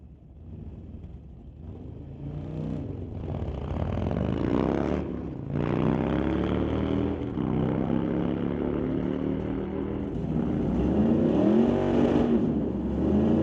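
A drag racing motorcycle roars down the strip on a pass at a test-and-tune event, its engine climbing through rising gear sweeps with a brief dip at a shift before pulling loud again.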